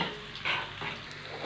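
Blended fava beans frying in a hot pan, a steady close sizzle with soft stirring scrapes, a brief louder burst near the start, no voices.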